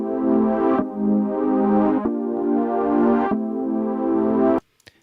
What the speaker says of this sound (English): There's a serum track,